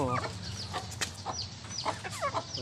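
Chickens cluck busily at feeding time, several close birds giving short clucks and squawks in an irregular stream with a steady background rumble, and no talking.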